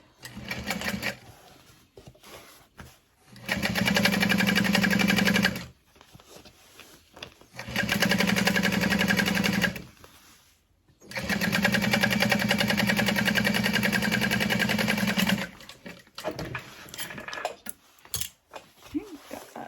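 A sewing machine top stitches fabric on a Joey U-N-I Sex tote bag in three loud, sustained runs of motor whir and needle chatter, separated by quiet pauses with faint handling sounds, close up and with no talking.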